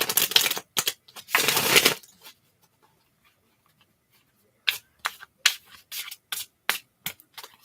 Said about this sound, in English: And I'm definitely shuffling the cards a lot today.